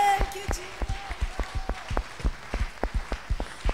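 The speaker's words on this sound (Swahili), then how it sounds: "Tupigie Bwana Yesu makofi mazuri." A church congregation claps in praise, a loose run of sharp, fairly close handclaps in an uneven rhythm, with a voice talking at the start.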